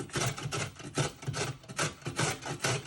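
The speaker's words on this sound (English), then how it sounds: "your carrot, you want to grate it on your grater" A carrot is rubbed up and down on a grater in steady, rhythmic strokes, about three per second, with a scraping rasp that stays close and even, with no talking.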